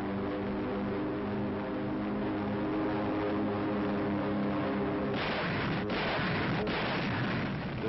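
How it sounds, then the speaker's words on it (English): Parachute fragmentation bombs burst across a jungle airfield in the Southwest Pacific, a steady droning rumble giving way to a dense, crackling roar of explosions with a few sharper blasts, heard through an old archival recording. "fragmentation bombs suspended from parachutes blanketed the area."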